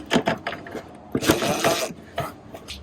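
Phillips head screws being backed out on a Yamaha R6, close ratcheting clicks in short uneven bursts with brief pauses between turns.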